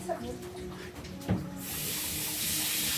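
A steady hiss of water running from a tap starts partway through and continues evenly to the end, after some quiet background clatter.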